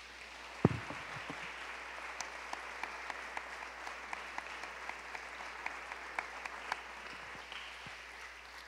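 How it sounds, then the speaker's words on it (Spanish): A church congregation claps together as an offering, a dense, sustained round of applause that fills the room at moderate loudness and keeps going evenly for several seconds. "Dele ofrenda de palmas al Señor"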